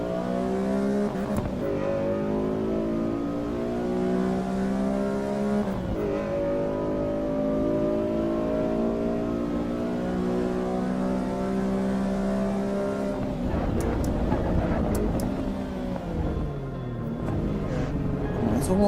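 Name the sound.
race car engine revving in Assetto Corsa EVO video game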